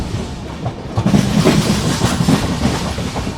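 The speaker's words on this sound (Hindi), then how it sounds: "अभी देखो बगल में अंडमान एक्सप्रेस आकर लग गई है चंद्रपुर रेलवे स्टेशन पे" Andaman Express pulling into Chandrapur railway station, a steady rumble of rolling stock with rhythmic wheel clatter close by, continuous and fairly loud throughout.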